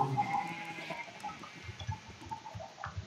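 Several sheep on a livestock farm in a Minecraft-style survival game bleat repeatedly, with overlapping calls at moderate loudness and faint background game sounds, no talking.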